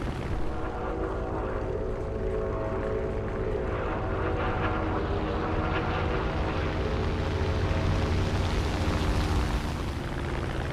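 The propeller engine of an XF5U aircraft in a flight combat video game drones steadily and loudly throughout with a constant humming tone, no voices over it.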